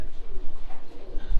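Racing pigeons at a one loft race in Minnesota cooing in soft, low murmuring bursts, close and fairly loud, with no one talking.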